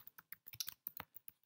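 Computer keys tap out code in a quick, uneven run of a dozen or so close, crisp clicks in under two seconds, with nothing else heard.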